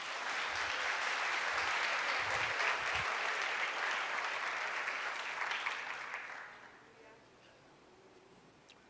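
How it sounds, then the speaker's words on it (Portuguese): A church congregation claps for Romildo in loud, sustained applause that holds steady for several seconds and then fades out quickly. "Dá uma salva de palmas para o Romildo"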